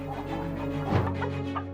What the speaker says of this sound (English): A chicken steps from the coop and senses immediate danger. It sounds the alarm for the flock.